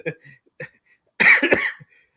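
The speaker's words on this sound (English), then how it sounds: "Now I'm going to go into a coughing spell here." A couple of short throat sounds followed by a loud, harsh cough burst close to the microphone on a sports talk show, then quiet.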